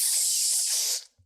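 A person leaning out of a van mimics a spray with their voice: one sustained, loud, close breathy hiss lasting about a second, then cutting off.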